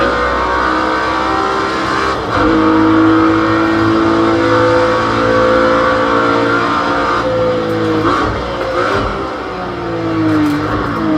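A Group C turbo race car in Project Cars 2 roars loud and close, its engine droning steadily, then revving through gear changes with rising and falling pitch and no one speaking.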